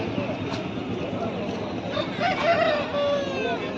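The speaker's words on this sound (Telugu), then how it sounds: "ఎర్రగట్ల గాజు పుంజు ఇది." An Erragatla Gaju breed rooster crows at a busy Sunday poultry market in Pileru, its drawn-out call rising partway through above a steady murmur of crowd noise and nearby talking.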